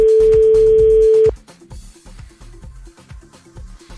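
During a French radio call-in show, a telephone line rings: one loud, steady, unbroken tone holds for over a second, then cuts off, leaving rhythmic background music.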